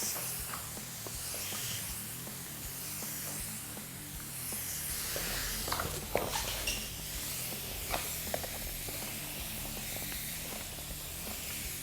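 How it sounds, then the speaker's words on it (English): Steady hiss of water spraying continuously across a mural surface, with faint scattered taps and shuffling underneath. "we're going to spray lengthways on the mural"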